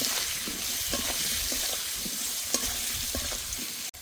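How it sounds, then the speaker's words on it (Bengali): Bitter gourd is stir-fried in a pan with salt, turmeric powder and slit green chilies. A close, continuous sizzle is broken by repeated scraping strokes of a spatula and ends in a sharp clack. "1 চামচ হলুদ গুঁড়ো, দিয়ে দেব চেরা কাঁচা লঙ্কা। এবার ভালো করে কষে নেব।"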